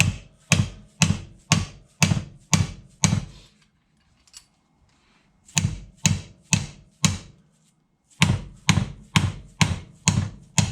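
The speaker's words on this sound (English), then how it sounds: "So just take a hammer or whatever you have and just kind of beat this off." Sharp metallic blows from a soft hammer knocking a cap off a 2020 Chevy Silverado front shock absorber, struck in quick, regular bursts, a pause, then two more rapid series of ringing strikes up close.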